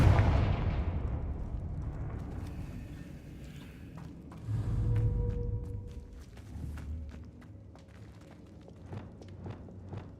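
Fire spells cast in the Hogwarts Legacy video game, a string of booming blasts and crackling impacts, with a heavy rumbling burst near the middle and sharp cracks scattered throughout.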